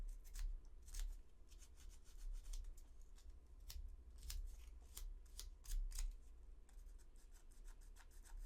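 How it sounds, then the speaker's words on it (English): Light, scratchy rubbing strokes in short irregular bursts, close and fairly quiet, fine sanding in the cracks of a small resin Predator model kit part, with no talking. "do a slight sanding right here in the cracks"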